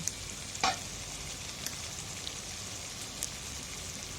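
Stuffed tomatoes frying in a covered pan give a quiet, steady sizzle, with one brief clatter as the pan is shaken to turn them and a few faint ticks afterward.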